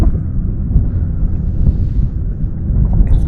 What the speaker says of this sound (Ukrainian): бо от боковий вітер дує, видуває шнур